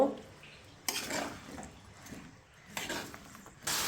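Vegetables (potato, brinjal, beans) being stirred into spice paste in a pan, with a few loud scraping and clattering bursts of the utensil against the pan between quieter gaps, close by and with no talking.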